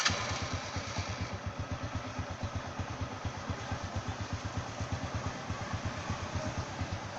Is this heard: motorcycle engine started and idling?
yes